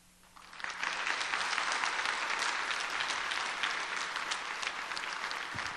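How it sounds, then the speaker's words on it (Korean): A church congregation at a Wednesday service applauds to welcome missionary Go Min-su to the pulpit, a dense sustained clapping that starts abruptly and holds steady for several seconds, filling the hall without any talk. "한 번 더 박수로 환영해 주시면"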